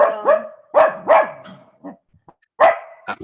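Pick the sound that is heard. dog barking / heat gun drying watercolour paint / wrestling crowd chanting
dog barking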